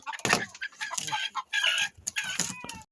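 Chickens just let loose in a Thai yard cluck repeatedly in close, busy bursts, several birds calling over one another with a brief higher squawk near the end.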